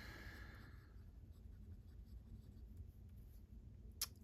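A Pelikan M300 fountain pen with a medium nib writes continuously on paper, a faint, soft scratching that runs steadily with one small tap near the end.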